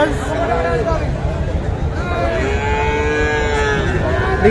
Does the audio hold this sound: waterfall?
no